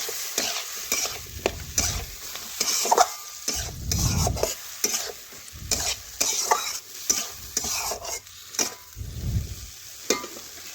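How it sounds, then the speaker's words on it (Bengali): Potatoes and eggplant stir-fried with spices in a pan, a close sizzle broken by repeated scraping and stirring strokes of a spatula, steady and rhythmic without talk. "এখন দেখুন, ভালোভাবে মশলার সাথে আলু বেগুন একসাথে আমি কষে নিচ্ছি।"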